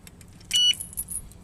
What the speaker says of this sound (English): You hear it beep.